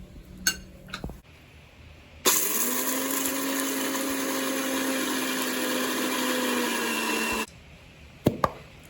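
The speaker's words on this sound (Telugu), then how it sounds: "ఇప్పుడు మిక్సీ పట్టేసుకుందాం ఇవన్నీ" A mixer grinder blending tamarind-leaf chutney whirs loudly and steadily for about five seconds, with brief clunks of handling before it starts and after it stops.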